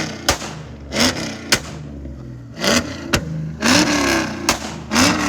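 A cammed Ford Mustang with long-tube headers, an X-pipe catback and straight pipes revs hard repeatedly at close range, sharp blips alternating with choppy lumpy idle between about six bursts.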